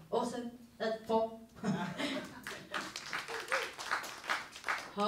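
Audience applause at a stage talk: a voice speaks over the first two seconds, then scattered, moderately loud clapping carries on steadily to the end.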